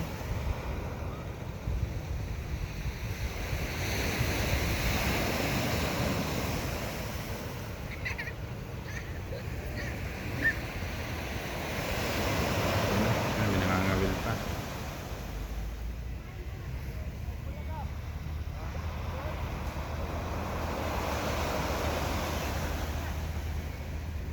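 Calm sea waves wash onto a beach in slow surges, with steady wind rumble on the microphone and faint voices of swimmers in the background.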